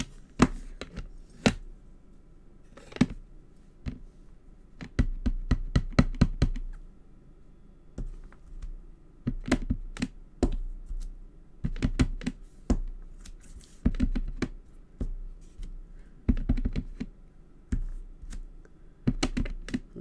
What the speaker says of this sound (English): I'm just going to stamp all over my card in Blushing Bride.